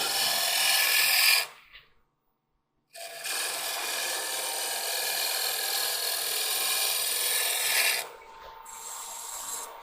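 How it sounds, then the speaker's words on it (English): A woodturning tool shear scrapes a long stem wooden goblet spinning on a lathe, giving a steady, close rasping hiss that stops briefly, then continues for several seconds. "Do a little shear scrape, get rid of any tool marks."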